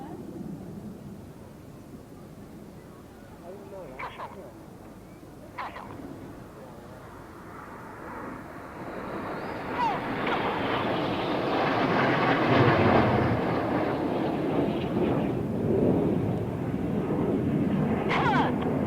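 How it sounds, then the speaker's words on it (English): Red Arrows jets at the Eastbourne International Airshow sweep past in a broad, building roar that swells from about ten seconds and stays loud to the end, with faint crowd voices earlier. "These 4 aircraft are now closing at 850 miles an hour"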